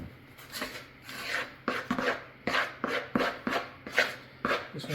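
Lumpy, thick egg nog bread batter being stirred and folded with a spoon in a bowl, a steady series of close, scraping, rubbing strokes about every half second with no talking.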